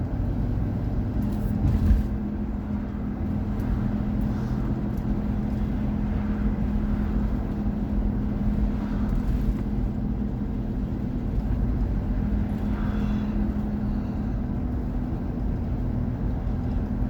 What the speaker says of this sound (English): Cars out there again today.